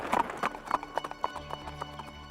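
Hooves of a horse pulling a tonga clip-clop in a steady trotting rhythm as the cart arrives, with a faint whinny, moderately close and with no talk.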